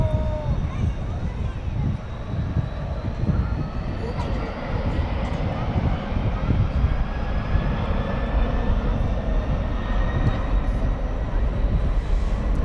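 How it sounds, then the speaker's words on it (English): An Airbus A300 jet departs DFW Airport at night, a loud continuous roar of engines holding steady and building slightly as it climbs away, with a broad rushing rumble throughout. "And here goes the A300."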